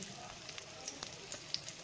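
Spices or ingredients for masala paneer sizzle softly in a pan, making a faint, steady frying hiss with small crackles and pops that go on without a break.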